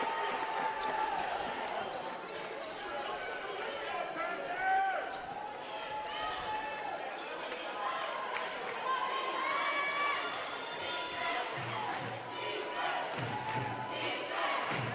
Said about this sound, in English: You can hear the defense chants now coming from the Toreador crowd